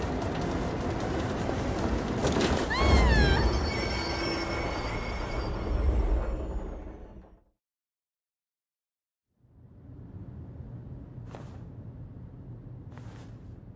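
A runaway train in the video game Persona 3 Reload rumbles loudly with screeching, squealing wheels for about seven seconds. It cuts to silence, then a lower, steadier rumble returns with two brief high hisses.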